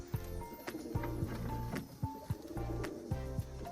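Crested pigeons nesting on eggs at a village home coo in repeated low rhythmic phrases, several birds close by with brief chirps between calls, no talking.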